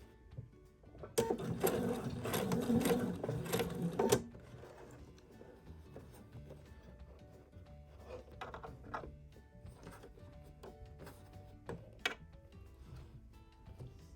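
Sewing machine stitches fabric in one quick, close burst of rapid whirring lasting a few seconds, followed by quieter clicks and small handling sounds as the work is pivoted.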